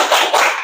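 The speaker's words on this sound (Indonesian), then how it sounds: "mari kita lakukan tepuk semangat lagi" A class does a rhythmic spirit clap, two quick, sharp bursts of hands clapping together, close and loud.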